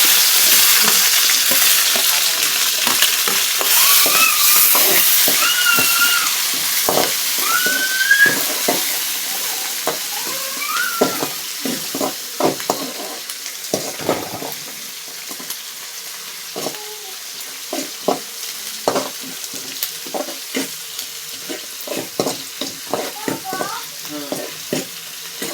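Onions sizzle steadily in a hot pan, and a spoon scrapes and stirs in bursts that grow more rhythmic while the frying hiss eases.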